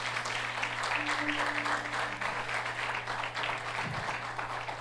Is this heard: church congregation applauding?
yes